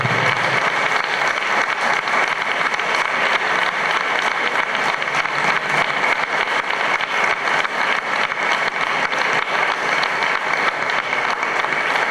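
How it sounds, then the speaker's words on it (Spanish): Sustained, dense applause from a large audience closing an Alzheimer and dementia health conference, honouring people from the clinic, university and associations; steady and loud throughout with no speech. "me gustaría terminar esto con un fuerte aplauso a estas personas"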